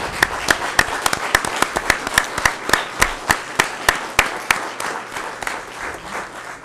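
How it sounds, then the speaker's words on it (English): Audience applause for candidates at a Yucca Valley Chamber forum: steady, sharp individual claps close by over a bed of wider clapping, gradually thinning toward the end. "Let's give everybody a round of applause."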